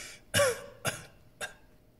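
Three short coughs, one sharp and two softer, spaced apart and heard close up in a quiet room.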